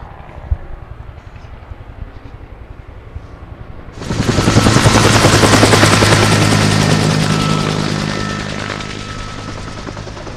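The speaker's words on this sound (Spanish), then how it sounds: "La descarga del helicóptero, aquí a escasos metros de donde estamos" Quiet outdoor ambience gives way to a sudden loud surge of rushing water and helicopter rotor roar nearby as a helicopter drops water on a fire, slowly easing off but continuing.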